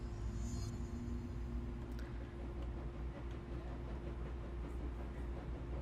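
A train in the video game Control gives off a low, continuous rumble with a steady mechanical drone, heavy and unbroken, with faint clicks and knocks riding on top.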